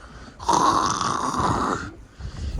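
A gust of wind rushes past the microphone for about a second and a half, a loud breathy roar that then drops away.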